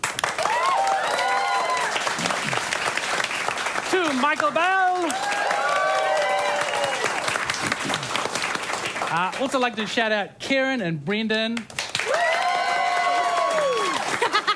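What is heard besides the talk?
audience applause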